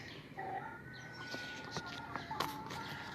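A chicken clucks softly in a few short, scattered notes against faint background noise, with other quiet bird calls nearby.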